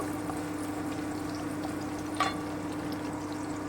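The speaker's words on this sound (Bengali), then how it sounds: "আমি থেতো করে নিয়েছি গরম মশলাটা দিয়ে দিলাম আমি হালকা একটুখানি ভেজে নিচ্ছি" Crushed garam masala lightly frying in a pan for chicken stew, giving a steady, even sizzle close by throughout, with one brief sharper crackle partway in; no voices.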